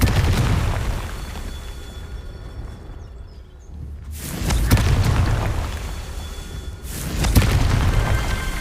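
Explosive Confringo spell blasts in the Hogwarts Legacy video game, two heavy booming bursts with rumbling tails, separated by a quieter lull of lingering crackle.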